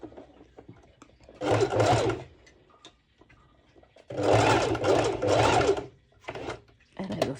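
A sewing machine stitching fabric for a pair of bottoms, running in close, loud mechanical bursts of a second or more with short pauses between them, while a voice talks quietly in the background.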